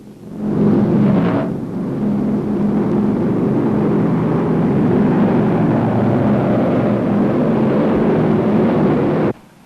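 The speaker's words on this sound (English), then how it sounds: "The low-flying planes stay away from the big towns, but sooner or later have to pass over a community." A low-flying multi-engine airplane passes over a small town, a loud, steady engine roar that holds for several seconds and then cuts off abruptly, with no voices.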